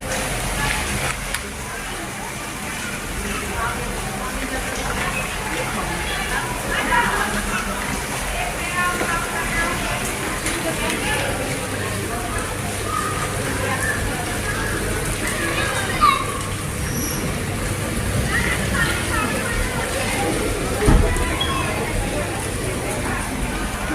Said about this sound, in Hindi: यहाँ पे काफ़ी तेज़ बारिश होने लगी है।